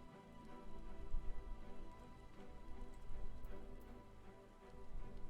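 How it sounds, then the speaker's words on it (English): Soft rain patters steadily in a fantasy video game world, a faint, even hiss with gentle swells and no voices over it. "it's raining"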